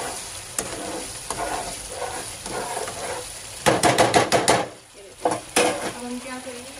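Minced mutton keema frying in a pan, with a steady sizzle and bursts of scraping stirs that grow louder midway, followed by a couple of sharper clanks of the spoon against the pan.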